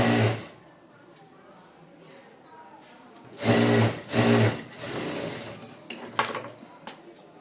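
Short bursts of a sewing machine stitching a puff sleeve onto a bodice, close and rhythmic, separated by quieter handling with someone speaking in between.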